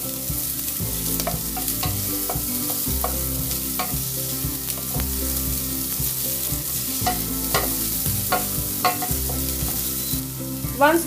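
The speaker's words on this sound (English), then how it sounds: "Again saute till the onion turns translucent" Finely chopped onions sautéing in a pan, a steady close sizzle with rhythmic spatula stirs scraping the pan, fairly loud, with no voices.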